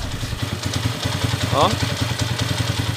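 A freshly rebuilt Honda TMX155 motorcycle engine idles nearby with a steady, even mechanical hum and light clatter while people talk over it.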